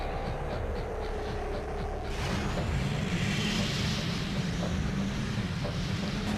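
Race car engines from the Speed Racer video game drone steadily, a low continuous roar that swells slightly as the cars get going, with no voices over it.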